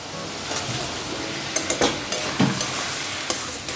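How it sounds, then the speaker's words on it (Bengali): Ash gourd chapor ghonto is stirred in a pan to dry off its water, giving a steady sizzle broken by sharp clacks and scrapes of the spatula against the pan, close and fairly loud. "এটা আমি এভাবে নাড়তে নাড়তে জলগুলো আমি শুকিয়ে নেব"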